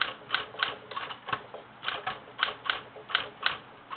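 A typewriter typing a name onto a card held in a platen card holder, a steady run of crisp mechanical keystrokes at an uneven rhythm, close and clear with no talking.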